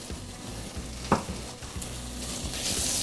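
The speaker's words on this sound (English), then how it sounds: "just by stirring them like this, I'm starting to break them down and smash them up a little bit" Soft, rinsed chickpeas stirred and lightly smashed in a sizzling frying pan, with a spoon scraping and knocking against the pan over a constant fry, one sharper clank near the middle.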